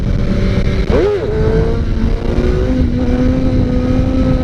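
A Suzuki GSX-R750 motorcycle accelerates hard and loud close by, its engine note climbing and shifting through a quick rev sweep as it lifts into a wheelie, then settling into a steady high drone.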